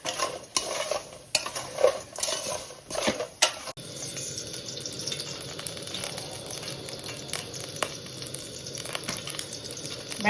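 Okra frying in oil in a pan, with a sharp steady sizzle and intermittent scraping and clinking of a spoon stirring against the pan.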